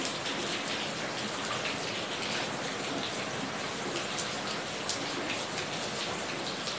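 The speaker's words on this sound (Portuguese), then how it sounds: "tá um barulhinho porque tá chovendo" Steady rain falls outside a home, an even, dense hiss of drops on surfaces that goes on without a break and with no voices.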